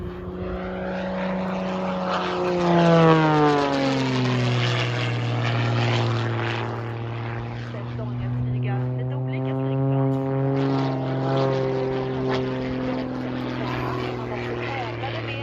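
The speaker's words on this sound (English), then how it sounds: "This stunt plane heading straight towards the ground." A stunt plane dives, its propeller engine whining loudly with pitch sliding downward, then climbing and falling again as it maneuvers.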